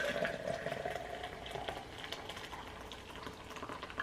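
Liquid poured out of a cooking pot in a home kitchen, a steady wet splashing and trickling that runs close and fairly loud through the whole stretch, with no talk over it.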